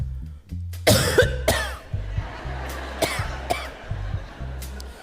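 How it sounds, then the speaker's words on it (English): A few coughs, the first loud and close, followed by quieter trailing coughs spread over several seconds against a low background hum. "You have to remember to trail off the cough."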